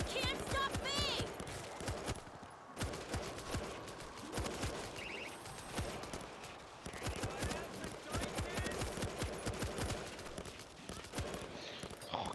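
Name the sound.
machine gun fire in video game World War Z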